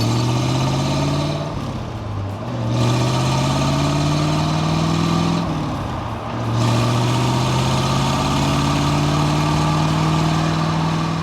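An all-original 1965 Corvette engine drones loudly and steadily while cruising on a California freeway, its pitch dipping briefly twice as though easing off and picking back up.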